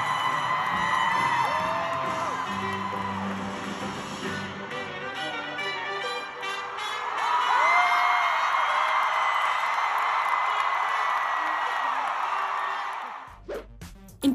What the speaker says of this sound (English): with the crowd erupting in cheers